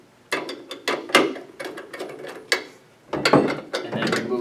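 Screws being loosened on a CanopyLight retrofit kit, heard as a run of short, close mechanical clicks and ratcheting bursts in irregular clusters with brief pauses between, no talking.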